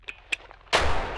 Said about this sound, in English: let me take my flashbang.